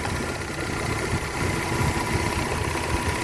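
The engine of a 1998 Chevy S10 pickup idles steadily nearby, a continuous low rumble with mild vibration and no voices.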